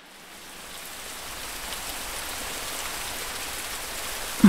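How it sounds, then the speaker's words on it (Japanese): Steady rain falls in a soft, even hiss that swells slightly at the start and holds at a constant level, with one small louder tap at the end and no speech. "また雨。"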